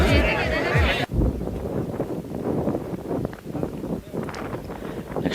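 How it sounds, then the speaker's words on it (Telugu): Strong wind buffets the microphone at a hilltop viewpoint in Vanjangi near Araku, a low rushing roar that carries on under someone talking close by. "ఆ గాలి సౌండ్ అది కూడా మీరు వీడియోలో అబ్జర్వ్ చేయొచ్చు."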